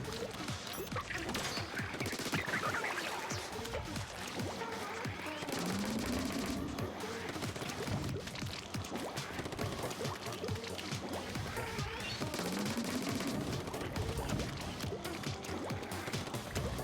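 Octo sniper enemies fire at the player in Splatoon 2 Hero Mode, their shots scattered through a dense, busy stream of game effects and music that runs unbroken from start to finish, with no speech.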